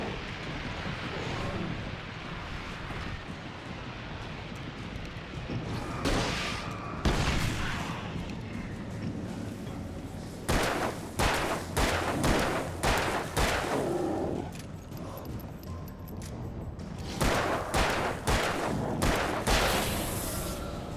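A flare gun and other guns fire in the video game Alan Wake, making loud, booming shots in irregular bursts. There are heavy gunfire clusters in the middle and near the end, with sustained rumble between them and no talking.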